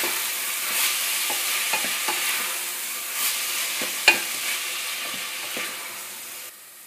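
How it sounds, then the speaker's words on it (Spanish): A base for fish soup, salted, sautés in a pan with a steady close sizzle and light stirring scrapes, one sharper clink near the middle, then the sound drops away at the very end; no one speaks. "Y lo vamos a sofreír durante un par de minutos."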